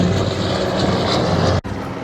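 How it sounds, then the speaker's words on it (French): A Douglas DC-3 propeller airliner from 1936–1945 flying over Saint-Tropez at an air show, its engine drone a steady, loud, broadband roar with a brief sharp dropout near the end. "Voilà donc l'avion immortel numéro 1, le DC-3, l'avion qui a inventé le transport."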